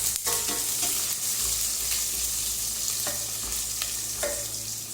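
Mustard seeds and large onions fry and sizzle in hot oil for tempering yogurt, with a spoon stirring and scraping the pan in several distinct strokes, close and steady, no talking.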